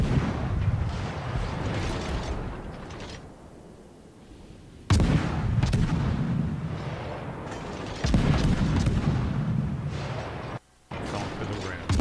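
Battleship guns firing in a naval video game, with the Alsace and Musashi as targets: booming salvos and rumbling blasts come in bursts with quieter gaps between them, under a player's steady voice calling out moves.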